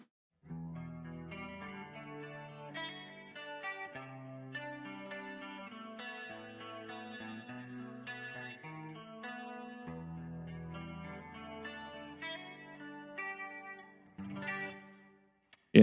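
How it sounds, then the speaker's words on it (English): A clean electric guitar runs through a Dimension C chorus pedal set to SSD with presets 3 and 4 combined, giving a shimmering, wide sound as chords ring out in a steady pattern. "Dimension C chorus. I have it on the the SSD setting, the 300."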